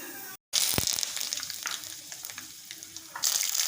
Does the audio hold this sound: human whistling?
no